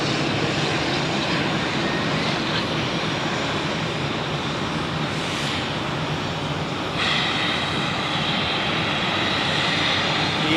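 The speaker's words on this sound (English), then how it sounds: "we have another EasyJet taxiing" EasyJet airliner taxiing at Zurich Airport, a steady droning engine whine heard from a moderate distance, with a brief shift in tone partway through.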